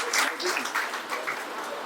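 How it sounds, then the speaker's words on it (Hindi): Audience claps to welcome a student at an exam-results felicitation ceremony, a brief, fairly faint patter of scattered hands with a voice faintly underneath. "तालियों से इनका स्वागत करें।"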